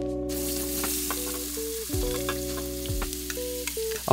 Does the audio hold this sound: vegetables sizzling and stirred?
yes